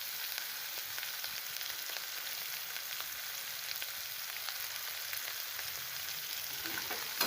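Bell peppers frying in hot oil in a pan, a steady even sizzle and crackle held at moderate level throughout, with no voices.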